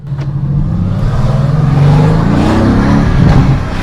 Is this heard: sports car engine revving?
yes